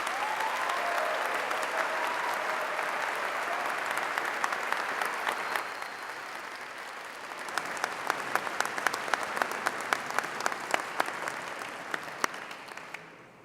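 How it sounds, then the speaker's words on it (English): Audience applause at a graduation ceremony, a steady wash of many hands clapping that carries on for the whole stretch, with individual sharp claps poking out louder toward the end before it fades. "give yourselves a round of applause"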